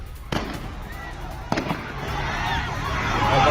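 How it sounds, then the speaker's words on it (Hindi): Gunfire from security personnel shooting at civilians in Balochistan: two sharp, fairly distant cracks about a second apart, over steady crowd noise and background murmur that grows louder. "बमपुर प्रांत में आम लोगों पर पाकिस्तानी सुरक्षा कर्मियों की फायरिंग।"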